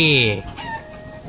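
A native village rooster in the rain gives a loud, close crow that breaks into clucking, ending after about half a second and leaving quieter background noise.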